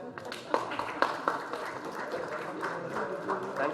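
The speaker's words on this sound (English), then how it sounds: "we shouldn't be stingy in our round of applause" An audience at a formal session honoring esteemed guests gives a steady round of applause, a dense wash of many hands clapping with a few sharper claps standing out, continuous throughout at moderate distance.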